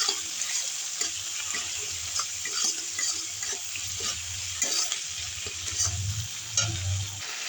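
Spice masala with turmeric and salt is sautéed in oil for a rohu fish curry: a continuous hiss of frying with repeated spoon stirs and soft scraping against the pan, close and unbroken by speech.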